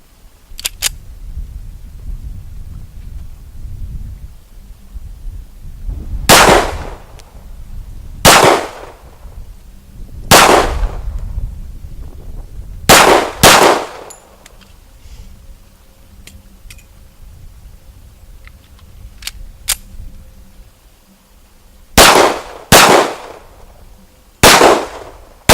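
Para Black Ops pistol fired at steel targets at 12 yards: sharp, loud shots in pairs and singles spread over about 25 seconds, with a pause around a magazine change and a faint low background hum.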